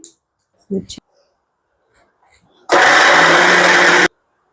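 A mixer grinder runs for about a second and a half, loud and whirring, as it grinds soaked black-eyed peas with cumin, salt and dried red chillies, after a few faint clinks.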